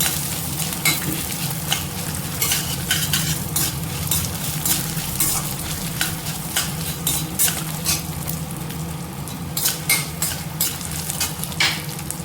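Garlic and chillies sautéing in a pan for a banana stem chutney, a constant sizzle broken by frequent scraping stirs of a utensil against the pan, close and fairly loud with no voices.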